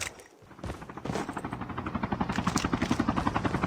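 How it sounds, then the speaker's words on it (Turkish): A helicopter in the video game Call of Duty Mobile approaches with a rhythmic, fast rotor thumping that grows steadier and louder, mixed with a few thuds and gunfire-like hits. "Aha helikopterli biri."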